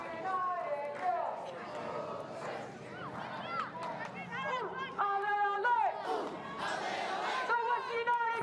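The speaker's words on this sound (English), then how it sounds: "Crowd starting to find their voice as Chloe Lincoln goes for distance here." Football crowd in a stadium at an A-League match between Western United and Western Sydney Wanderers, chanting and shouting voices rising and falling in a loud continuous roar, with commentary talk over it.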